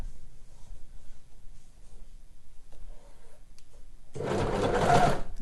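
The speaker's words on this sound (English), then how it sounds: "sew a little bit or overlock a little bit, then reposition, then continue" An overlocker sews a sweatshirt cuff, a short stretch of faint stitching giving way to a loud, steady mechanical whir near the end, with no talking.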